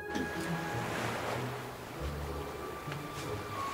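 Ocean waves wash in a steady, soft roar of surf, distant and continuous, with gentle swells and a faint breezy hiss over the whole stretch.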